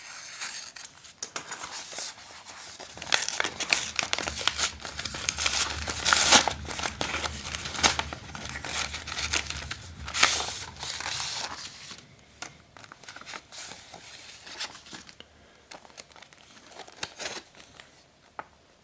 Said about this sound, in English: So let's go ahead and open the envelope